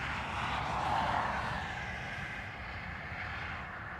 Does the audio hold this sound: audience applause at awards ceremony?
no